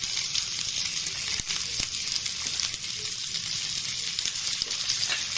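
Onion and garlic fry in hot oil in a pan for palak paneer, giving a close, steady crackling sizzle with occasional small pops and no speech.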